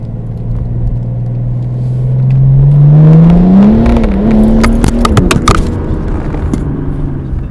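A stage 3 tuned BMW E92 335d diesel with an automatic gearbox revs up from idle, its loud, close engine note climbing and holding before dropping back to a rumbling idle, with small rattles.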